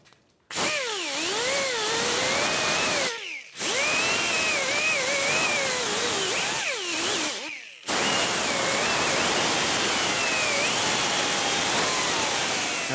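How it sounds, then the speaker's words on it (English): Power tool spinning a cleaning disc against a rusty wheel hub on a 2015-2019 Hyundai Sonata, a loud whirring grind that wavers in pitch across several bursts separated by short pauses, with no talking. "We're gonna use a cleaning disc on our hub."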